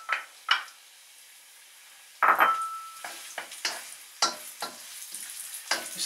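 Onions and garlic frying in olive oil in a pan: a steady sizzle with repeated bursts of stirring and scraping, close and fairly quiet.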